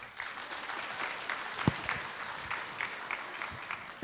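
An audience at a school honor roll recognition ceremony breaks into sustained clapping, a dense patter of many hands in a room, with a voice briefly heard partway through.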